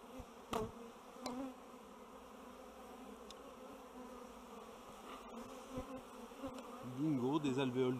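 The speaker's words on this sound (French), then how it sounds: "Il n'y a que des bourdons dessus." Honeybee drones buzz steadily and softly on hive frames in a queenless colony, with a continuous low hum and a few passing individual buzzes close to the microphone.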